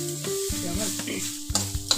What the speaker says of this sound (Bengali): আমি কন্টিনিউ নাড়াতে থাকবো যাতে নিচে লেগে না যায়